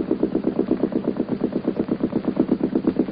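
A 25-foot Royal Navy motorboat engine chugs steadily at close range, a loud, even pulsing rhythm that holds without variation, with no voices over it.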